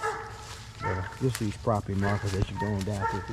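A dog in the woods barks and yips repeatedly, close and loud, its bursts overlapping someone talking as people walk through the trees.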